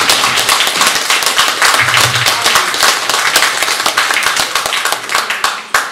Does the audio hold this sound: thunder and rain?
no